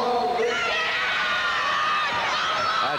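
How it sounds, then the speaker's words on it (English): A section of high school girls cheers loudly from the stands beside the track at the 1984 Millrose Games girls' mile, a dense, continuous wash of shrieks and shouts close by throughout. "We've got a cheering section behind us here that's just moved right down to get close to the track."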